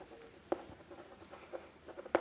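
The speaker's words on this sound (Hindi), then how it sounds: "तो मैं यहां पे यही लिख रहा" Chalk or marker writing on a board in a physics classroom, with soft scratchy strokes and a few sharper taps of the tip against the surface, close and fairly quiet, with no speech.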